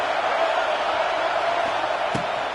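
Stadium crowd roaring steadily in a college football video game, Georgia versus Alabama, a dense continuous wash of noise on third down with a brief sharp thump near the end.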